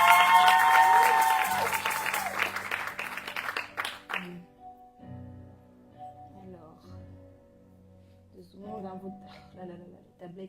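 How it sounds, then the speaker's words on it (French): A church congregation bursts into loud cheering and applause that fades away after a few seconds, followed by quieter speech and small sounds. "Est-ce que tu peux acclamer pour que je sente que tu es là?"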